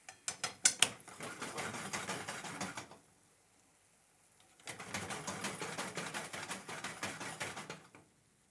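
A kitchen stove burner is switched on for a teriyaki chicken sauce, with two bursts of rapid mechanical ratchet-like clicking from the igniter separated by a brief quiet gap.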